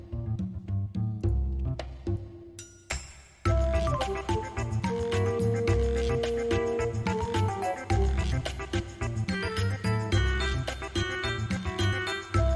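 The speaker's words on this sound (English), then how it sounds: "This is the Chrono Cross song that sounds like this song." Melodic video game music from Chrono Cross, opening with sparse plucked notes before a fuller band arrangement swells in and carries on steadily.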